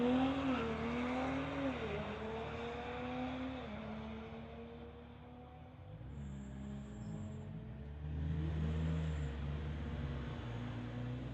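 Two cars, a 2020 Tesla Model 3 and a 2018 Audi, launch side by side in a street-legal drag race, engine and motor whine rising and shifting loudly through the run with crowd-level ambience, no talk.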